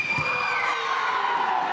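Volleyball crowd at a pro match cheering and roaring continuously, loud and sustained throughout with a brief shout near the start.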